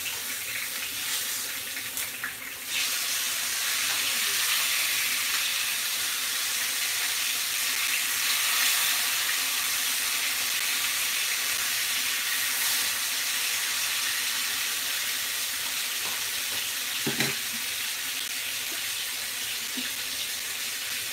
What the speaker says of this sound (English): Okay, I'm about to flip the sausage.